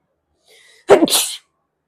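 A single sharp, close human sneeze after a faint intake of breath, loud and abrupt, with silence before and after.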